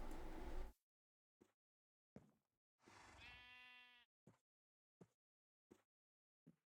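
Sheep in the Minecraft GregTech New Horizons modpack bleats in a couple of short calls, one long wavering bleat standing out amid brief clicks and gaps of near silence.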